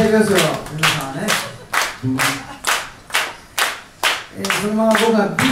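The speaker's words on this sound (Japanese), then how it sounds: "手拍子" A crowd claps in steady unison to a regular beat, loud and rhythmic, with voices cheering and chanting over the claps.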